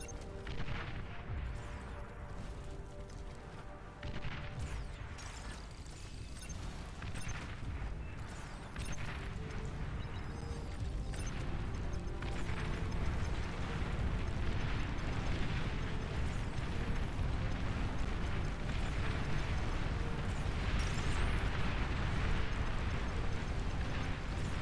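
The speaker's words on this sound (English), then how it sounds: "Artillery." Artillery fire rumbles through a large real-time strategy battle in Beyond All Reason, a dense, continuous wash of booms and bursts that grows slightly louder and fuller over time.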